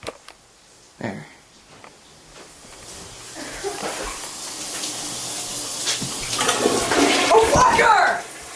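A toilet is flushed while someone showers in the same bathroom; rushing water swells steadily over several seconds to a loud, hissing peak, with a few knocks near the start.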